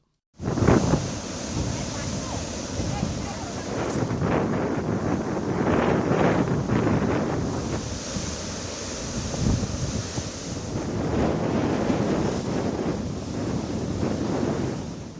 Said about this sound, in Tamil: கடலில் பல அடி உயரத்திற்கு அலைகள் சீற்றத்துடன் எழும்பியது